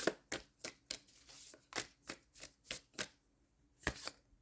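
Moonology oracle cards being shuffled, a steady series of about a dozen crisp riffling bursts in an even rhythm, close and distinct, with a short pause before the last couple.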